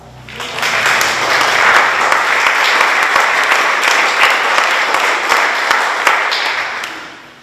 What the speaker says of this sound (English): So I think they will deserve a round of applause.